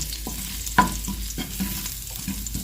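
Milkfish with ginger being sautéed in a reduced amount of oil: a steady close sizzle with sharp scrapes and clatters from stirring, and no talk.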